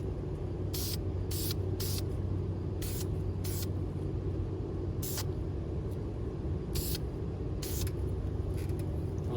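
A spray gun lays a coat of primer on a 2021 Chevy Silverado Trail Boss, giving a constant, close, loud airy hiss broken by short, brighter bursts as passes are made.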